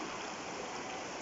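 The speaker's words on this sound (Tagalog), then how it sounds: "Ito pong tubig na to, ito ang Napulidan River" Steady rushing flow of the Napulidan River, a small river meeting a larger one, heard as a continuous broadband wash of water at even loudness throughout, with no voices.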